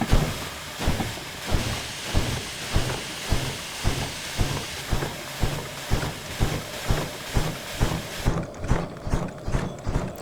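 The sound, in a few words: steam locomotive blowing out steam, from video game Derail Valley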